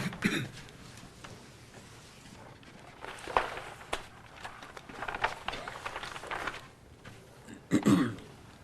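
Footsteps walk across a room, soft and irregular, with a few louder scuffs amid quiet background noise.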